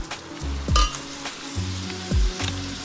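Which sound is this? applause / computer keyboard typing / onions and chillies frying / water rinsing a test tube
onions and chillies frying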